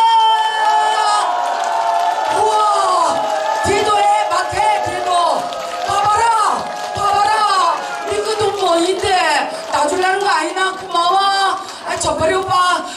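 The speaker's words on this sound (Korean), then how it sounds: "박수와 함성 아마 한 번에 해줄 수 있나?" Crowd at an outdoor autumn jujube festival performance in Boeun, Korea, cheering, whooping and shouting loudly over music, with voices rising and falling in bursts throughout.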